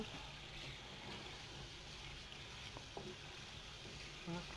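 Oil simmers and sizzles in a pan of curry as it is stirred, a faint, steady frying hiss with occasional small scrapes and bubbling pops throughout.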